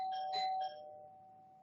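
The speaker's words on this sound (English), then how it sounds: "Someone just rang my doorbell." A doorbell chimes indoors, a clear two-tone ding-dong sounding once at moderate volume, its tone lingering and fading with no talking.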